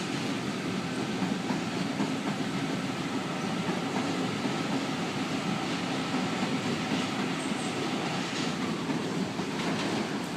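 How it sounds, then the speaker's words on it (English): A Sydney Trains Waratah set departs a platform at Strathfield on a rainy day, a steady broadband rumble of rolling stock that stays fairly faint and even throughout, with no talk. "we have a Waratah departing off platform number 5"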